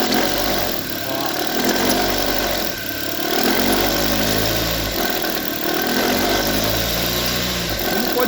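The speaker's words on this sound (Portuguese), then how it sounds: "vamos forçar o motor e vai começar a fazer o barulho" A Chevrolet Prisma's engine runs and is pushed into revving, its steady mid-pitched drone carrying a rough vibrating note from a loose, flapping alternator belt, rising and dipping in a few surges.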